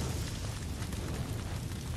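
A low, rumbling explosion in God of War, a dense, steady roar of blast noise filling the whole moment with no speech over it.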